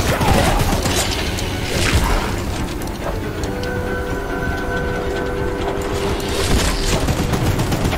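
Mounted gun in the Choo-Choo Charles game blasting at the monstrous spider-train, a dense, loud fusillade of booming shots running throughout with rumbling train noise and a steady tone underneath.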